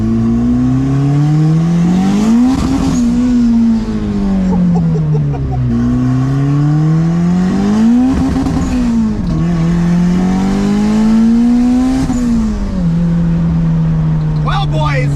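A Honda fitted with a cheap $120 turbo pulls hard through the gears, its engine note climbing steadily and then dropping at each of three shifts. Loud and continuous from inside the cabin.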